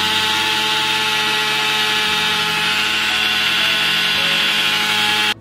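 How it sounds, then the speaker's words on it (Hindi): A kitchen mixer grinder pulverises oats into powder with a loud, steady high-pitched whirring roar that runs without a break, then cuts off abruptly at the end. "Let's grind."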